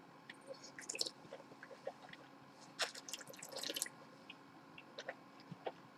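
Quiet wet mouth sounds from rinsing between wine tastings: soft swishing, slurping and small clicks in scattered bursts, close and faint, with no talk.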